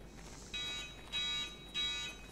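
An electronic alarm tone in the game Escape from Tarkov sounds in three steady pulses, each about a third of a second long, separated by short gaps over a low background hum.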